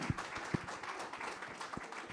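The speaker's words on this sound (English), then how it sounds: "let's give a round of applause to our great panelists today" An audience at a conference panel on multichain liquidity claps for the panelists, a brief, soft, even patter of many hands.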